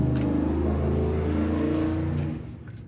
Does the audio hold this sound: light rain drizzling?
no